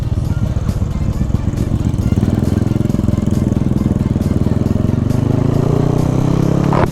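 Honda Wave 125 motorcycle with a 57 mm bore kit, its engine droning loud and close while being ridden, a steady rapid pulsing that rises in pitch near the end.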